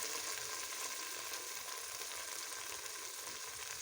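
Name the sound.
fava beans frying with tomatoes in a pan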